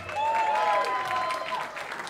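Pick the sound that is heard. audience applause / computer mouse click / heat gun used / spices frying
audience applause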